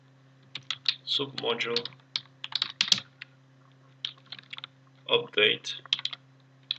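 Keystrokes on a computer keyboard entering a git command, in short bursts of clicks between and under a man's speech, close and fairly quiet.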